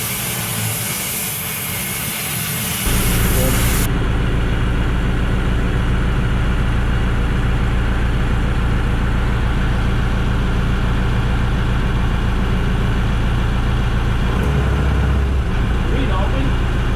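A Perkins Phaser turbo diesel fitted in an M3 Stuart tank starts after a moment of quiet, then runs with a loud, steady low drone close by.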